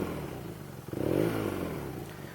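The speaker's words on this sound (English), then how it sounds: "you can probably hear that exhaust note" A stock BMW R nineT motorcycle idles with a low, steady exhaust burble that swells briefly in a small rev before settling back, heard close.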